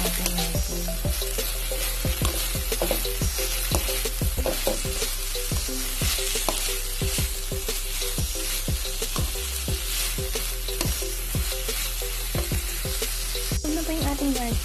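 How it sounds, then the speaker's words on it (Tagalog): Mushrooms and bean sprouts sauté in a pan under a loud, continuous sizzle, with repeated sharp stirring scrapes and taps at a brisk, regular rhythm, close and without talk. "haluin lang din natin ulit hanggang sa mag-dissolve yung ating mushrooms"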